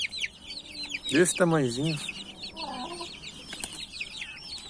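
Chicks and young chickens clucking and peeping in a coop, a cluster of chirps and clucks near the middle with scattered quieter peeps throughout, close by, and someone briefly speaking.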